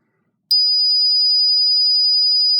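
A homemade smoke detector circuit built in a can goes off as smoke crosses its laser beam, a sudden piercing steady electronic tone that starts abruptly after half a second of silence and holds unbroken.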